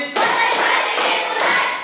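Rhythmic group clapping of a classroom spirit clap in a maths lesson, several loud bursts of hands beating together in a patterned sequence, close and with no talk.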